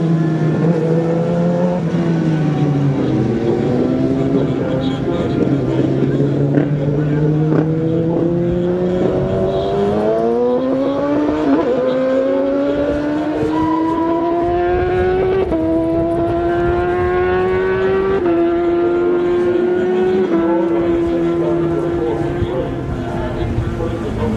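Racing motorcycles in the 2012 Manx Grand Prix Senior race roar past loud and close. Their engine notes climb and drop through the gears while one machine stutters at its rev limiter, and a commentator talks throughout.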